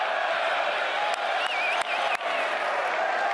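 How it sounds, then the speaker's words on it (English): A home crowd at La Rochelle's rugby ground cheers for the home side against Gloucester in the Challenge Cup with a loud, steady wash of applause and roaring, punctuated by a few sharp whistles. "And the crowd getting behind the home team."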